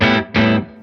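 Electric guitar through a Spruce Effects Glaciers preamp set for a clean, slightly hairy distortion: two sustained chords strummed one after another, close and loud, the second ringing out and fading.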